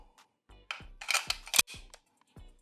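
A P10F magazine clicks and locks into a CZ TS 2 competition pistol: a handful of sharp, close metallic clicks and snaps, clustered in quick succession.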